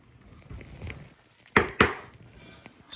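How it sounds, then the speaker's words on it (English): A knife cuts through deer meat off the bone, slicing strips for jerky, with two sharp close chops near the middle over soft scraping and handling noise. "Just start slicing jerky."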